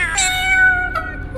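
A cat meows in an animated piece: a loud, close, drawn-out meow followed by a shorter second meow, standing alone with no talking.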